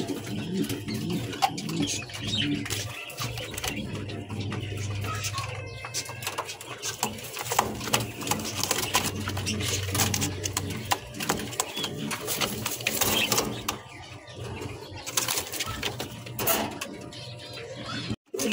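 Lahori pigeons coo in low, soft repeated calls within a busy, cluttered setting, with steady background noise, occasional sharp clicks and bumps, and a voice talking at times.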